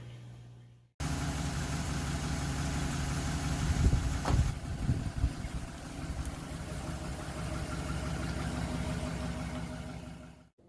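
Car engine running steadily at close range while the car rolls over flashlights, with a brief louder burst of crunching or thumping partway through as the tires pass over them, then a continued engine drone.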